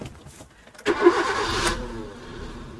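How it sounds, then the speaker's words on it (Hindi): Maruti Suzuki Swift with a blinking security light cranks briefly and catches, its engine starting with a sharp burst, then settling into a nearby idle that gradually quiets. "गाड़ी हमारी स्टार्ट हो गई"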